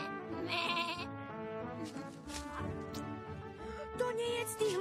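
A horned goat bleats repeatedly in a farmyard, its wavering cries fairly loud and close, set over a busy harmonic background of music or other sounds.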